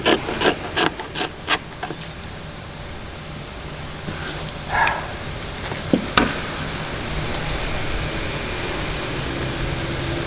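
Hand sanding of fiberglass filler, a run of quick rasping strokes at first, then sparser scrapes over a steady background hum.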